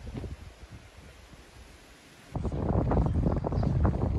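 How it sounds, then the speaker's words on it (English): Gusty wind blows in the village of Castle Combe, buffeting the microphone with a rough rumble that eases for a moment and then returns louder and more constant. "It's quite windy."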